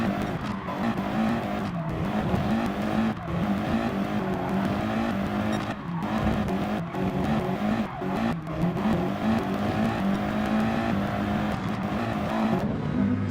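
Tamiya radio-controlled race cars tear around a Catalunya GP track in a steady, buzzing electric drone, with occasional tire squeals and no voices heard.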